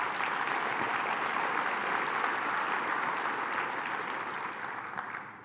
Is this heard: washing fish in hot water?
no